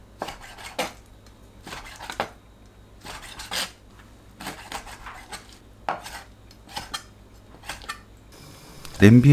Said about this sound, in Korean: 오징어에 칼집 넣고 한입 크기로 썰어줍니다.